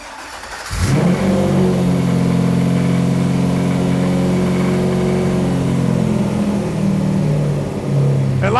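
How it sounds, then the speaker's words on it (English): An industrial LS 6.0 V8 fires up after a short crank and settles into a loud, steady run close by, with a brief dip in revs near the end and oil in the headers. "All right, fire it up again, Barb."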